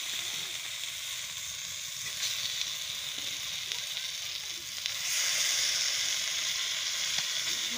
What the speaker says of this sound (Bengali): তো এই দেখো, মাংসটা আমি দিয়ে দিচ্ছি।